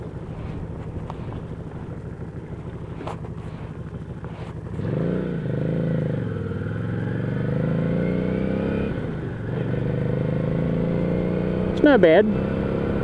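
A Harley-Davidson Street 500 with its 500cc engine rides along a rough road, its steady engine drone rising slightly with wind buffeting the microphone while the rider talks over it.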